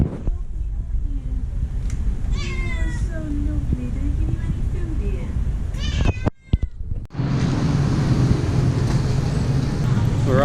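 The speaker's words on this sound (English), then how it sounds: "Why do we always end up with a cat in our room" A cat indoors in a guest room lets out several close, wavering meows with clear rising and falling pitch, followed by a steady broadband wash of background noise like rain or traffic.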